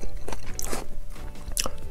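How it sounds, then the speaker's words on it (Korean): Salmon sushi is eaten close to the microphone, with soft wet chewing and a few crisp bites over roughly two seconds. "연어 초밥 먹어보겠습니다."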